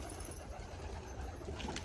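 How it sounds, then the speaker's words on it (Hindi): Pigeons coo softly as they go into a loft, a low, faint murmuring of a few birds close by against a steady background hiss, with no talk. "देखो गाइस ये जा रहे कबूतर लॉफ्ट के अंदर"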